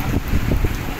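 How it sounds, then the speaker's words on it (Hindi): Rain starting to fall outdoors, heard as a brief, close hiss of patter with light wind noise. "बारिश स्टार्ट हो गई है"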